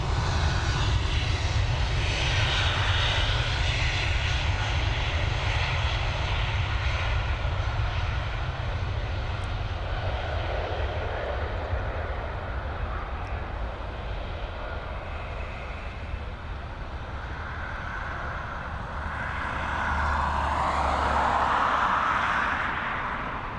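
An airliner departing Dublin Airport roars with a sustained jet engine rumble that holds steady, eases, then swells again near the end as it climbs away, loud and continuous with no voices.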